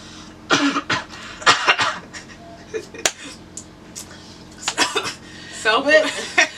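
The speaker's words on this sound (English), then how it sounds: "One cough is enough." Several harsh coughing bursts, close to the mic and spaced irregularly across the clip, with some throat clearing between them.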